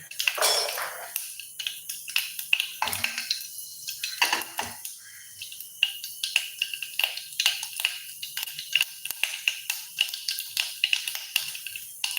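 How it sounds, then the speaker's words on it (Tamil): Rapid crackling and popping of mustard seeds spluttering in hot oil, continuous irregular sizzling bursts, fairly close, with no talking. "இப்போ கடுகு நல்லா பொரியுது"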